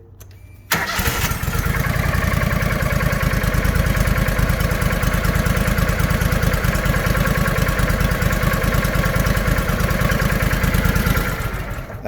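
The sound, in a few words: newly installed engine running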